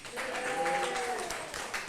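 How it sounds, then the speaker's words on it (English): Audience applause at an annual garden party arts event is heard as a faint, steady patter of many hands, with a brief voice over the clapping. "how about another round of applause for Steve and Marie Beatty?"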